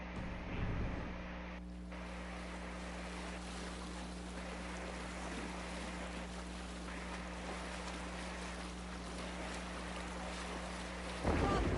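A sailing ship rides the waves in Assassin's Creed Valhalla, with a steady low drone of wind and water running under the whole passage, swelling slightly at the very start and end.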